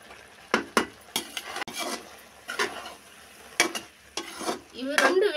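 A spoon stirs curry leaves and coriander into a broad bean and tomato curry in a pan, making repeated loud scraping strokes against the metal over a low sizzle. A clatter sounds near the end, and nobody talks.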